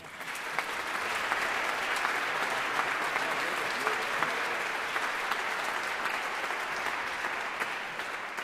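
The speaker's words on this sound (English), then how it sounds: "Please give them a big hand." A concert audience applauds steadily after an orchestra performance, with dense, sustained clapping that holds at full strength for several seconds.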